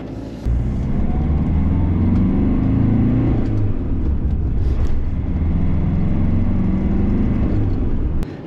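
Diesel motorhome after engine optimisation accelerating hard in second gear, a steady loud engine rumble and road drone heard from inside the cabin, building after a brief quiet start and holding to the end.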